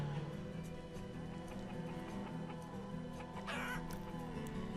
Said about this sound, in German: Und jetzt werden die armen Hühner eins nach dem anderen abgeschlachtet.